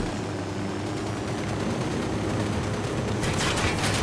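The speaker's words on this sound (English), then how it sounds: "I'm opening fire." Sustained automatic gunfire rattles in the Ghost Recon Wildlands video game, a continuous loud burst over engine-like rumble, with sharper, brighter shots crackling near the end.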